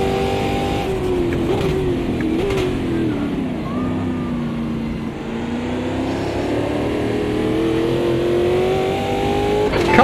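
A race car engine at full throttle in Automobilista 2 drones loudly and steadily, its pitch climbing gradually through a long pull with brief dips at gear changes, alone and close.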